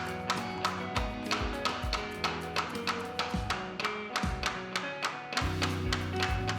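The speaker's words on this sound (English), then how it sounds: "Use a stroke block, otherwise you will break the click system of the plank." A tapping block knocks a parquet vinyl click plank into place in a steady series of sharp, close taps, with tonal background music running underneath.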